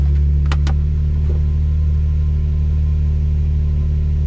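A Nissan 350Z engine idles with a steady low rumble after starting following a fuel pump replacement, a couple of brief clicks or squeaks near the start, no talking.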